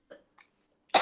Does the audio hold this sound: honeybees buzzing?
no